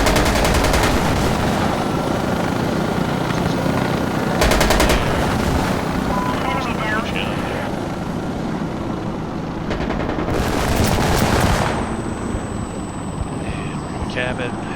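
Gunfire in the video game Insurgency: Sandstorm, loud bursts of automatic fire and single shots over a constant roar of battle noise, with a whining engine-like drone near the end.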